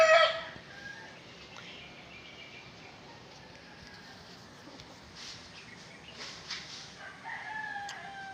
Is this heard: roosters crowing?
yes